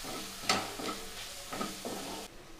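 Finely chopped green coriander being stirred and sautéed into masala bhindi do pyaza in a hot pan, giving a steady sizzle with several scraping stirs in a loose rhythm, close and moderately loud.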